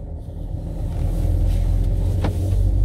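A car engine cranks and settles into a steady low idle rumble, loud and close, just after the airflow meter was replaced, with a brief higher whine near the end.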